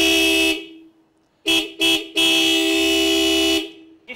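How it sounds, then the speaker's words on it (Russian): Horn of a homemade cargo snowmobile, sounding as a loud nasal honk: one long blast, two short toots, then a longer sustained blast, with brief silences between. "рули клаксон"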